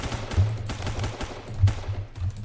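P90 SMG firing full-auto in the shooter game Phantom Forces: a fast, even rattle of close, punchy shots with deep thumps running the whole time.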